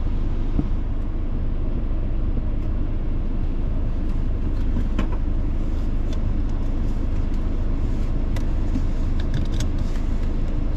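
A car is driven along the road from home to work, heading down a hill; there is a constant low rumble of engine and tyre noise from inside the vehicle, steady throughout, with faint light ticks and no talking.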